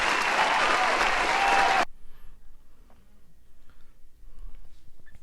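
Applause from a church audience for Richel Guillaume, a loud burst of clapping that cuts off abruptly after about two seconds and gives way to quiet room noise.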